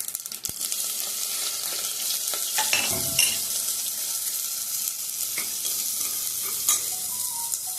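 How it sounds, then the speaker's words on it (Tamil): Mustard seeds spluttering and frying in hot oil with asafoetida powder, the start of a one-pot rasam rice in a pressure cooker: a steady close sizzle with scattered sharp pops and crackles throughout. "கடுகு வெடித்ததுக்கப்புறம் ஜீரகம் போடலாம்"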